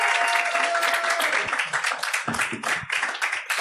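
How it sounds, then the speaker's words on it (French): An audience bursts into loud, sustained applause, dense clapping that thins into scattered claps toward the end. "veuillez faire un tonnerre d'applaudissements"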